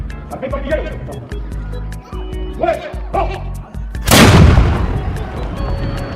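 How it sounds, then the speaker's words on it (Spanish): A cannon in the video game Clash of Clans fires one loud booming blast with a long rumbling decay, preceded by busy game sounds and a voice talking over them. "no podrías aguantar un cañonazo"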